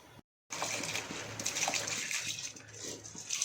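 Soaked basmati rice tipped into a pot of hot water for jeera rice, giving a close, continuous watery pouring and splashing rush that runs for a few seconds after a brief gap of silence.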